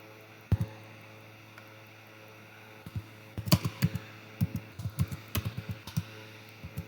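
Someone types on a computer keyboard, a few isolated keystrokes giving way to bursts of quick, uneven clicks, fairly close, over a low steady electrical hum and no speech.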